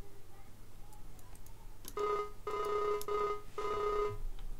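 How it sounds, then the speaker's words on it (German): An in-game telephone rings in Farming Simulator 19 during a call, in three or four bursts of electronic trilling separated by short gaps, loud and close over a low game hum. "Ich telefoniere okay."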